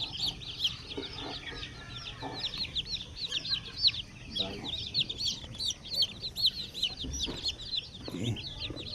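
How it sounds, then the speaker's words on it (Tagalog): Newly hatched shamo, aseel and native chicks peep in a dense, continuous high chorus close by, with faint handling noises and low background rumble underneath. "So ito na po yung ating mga sisiw."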